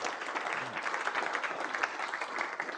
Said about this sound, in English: please give him a huge, warm round of applause